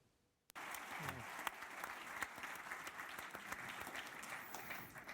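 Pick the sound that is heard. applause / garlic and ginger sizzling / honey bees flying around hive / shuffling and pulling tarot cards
applause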